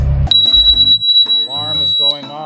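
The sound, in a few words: alarm going off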